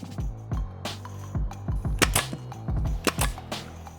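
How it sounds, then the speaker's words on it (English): A pin nailer firing pin nails into a taped, glued wooden miter joint: a rapid, uneven string of sharp, loud snapping shots with brief hissy tails, heard up close over about four seconds. "We'll put tape on the ends and then we'll fire pin nails into it."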